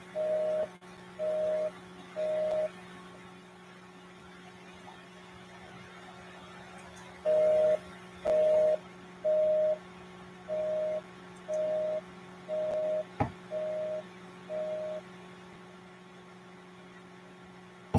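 A telephone line gives a busy signal of short, evenly spaced beeps in two runs, separated by a pause, over a constant low electrical hum.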